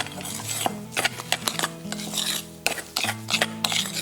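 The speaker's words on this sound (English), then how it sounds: "So just give this a really good mix together until all of the egg white is mixed in." A spoon stirs egg white into a thick chocolate avocado mousse in a bowl, producing loud, close scraping and clinking against the bowl in irregular strokes.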